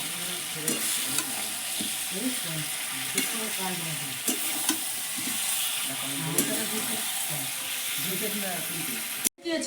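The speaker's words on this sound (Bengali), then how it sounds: "আলুর সঙ্গে মশলা কষিয়ে নিচ্ছি" Potatoes are sautéed with spices in a pan, with continuous loud sizzling and repeated scraping stirs in a steady rhythm. A voice speaks briefly over the frying, and the sound cuts off abruptly at the end.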